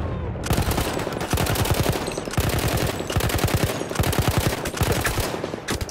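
Video-game gunfire in rapid automatic bursts, several loud volleys separated by brief pauses, close and dense throughout.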